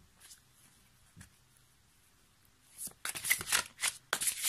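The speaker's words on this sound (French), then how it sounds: "Donc on va compléter notre tirage avec les licornes magiques de Dorine Virtue." Oracle cards for a tarot-style reading are shuffled close by, quiet at first and then a burst of rapid riffling and flicking in quick successive runs toward the end.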